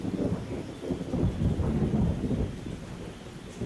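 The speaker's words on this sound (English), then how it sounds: "The rain poured on and on and on until finally thunder exploded." A low, rolling rumble of thunder swells and fades over steady rain, with no voices.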